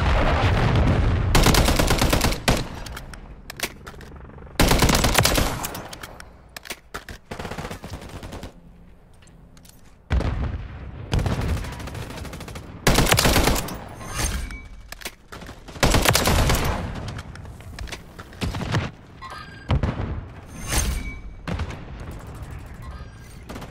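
Gunfire from a scout vehicle's top-mounted shooter on the Rust map in Modern Warfare 3: repeated loud, sharp bursts of automatic fire in clusters separated by short gaps, with brief talk in between.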